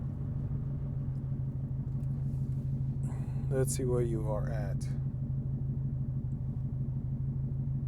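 A Subaru STI with a new aftermarket exhaust idles steadily, a low throbbing rumble with an even pulsing rhythm running throughout, while someone speaks briefly partway through.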